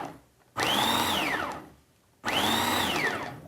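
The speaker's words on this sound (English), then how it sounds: "the way we rice it is by pulse chopping it" A food processor pulse-chops vegetables into rice-sized bits, heard as two loud motor bursts of about 1.7 and 1.3 seconds, each whirring up then winding down, with a short quiet gap between them.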